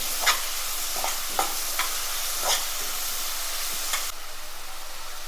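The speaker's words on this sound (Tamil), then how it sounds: "ஆனியன் நல்லா வெந்துக்கிட்டு இருக்கு" Chopped onions sauté in a pan for fish kulambu, a steady close sizzle broken by several scraping stirs of a spatula and no voices.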